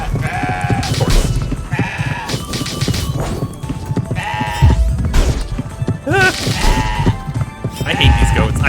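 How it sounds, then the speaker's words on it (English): Goat enemies in the CrossCode video game bleat repeatedly in loud, wavering cries amid combat hits and game music, several bleats overlapping across the fight. "I hate these goats."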